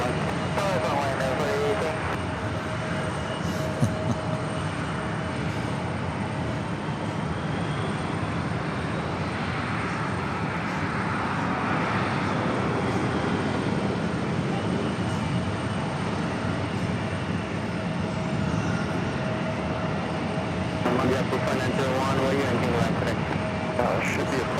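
A Lufthansa jet takes off at JFK airport, its engines a broad, sustained roar rising and lingering over the whole stretch, heard from a distance beneath people talking.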